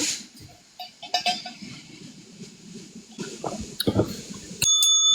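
A bell rings out clearly near the end of a lively Thai livestream, its steady ringing tone rising above scattered chatter, clinks and background bustle.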